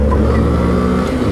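Held at full throttle, a 2014 Honda Grom motorcycle engine gives a loud, steady, buzzing drone, heard close over a short moment.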